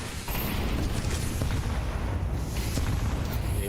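Grenade blasts in a first-person shooter match from the European Pro League rattle through dense, continuous booming gunfire and explosions, loud and busy for the whole stretch with no voices.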